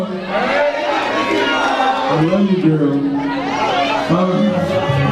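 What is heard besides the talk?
crowd cheering at a live show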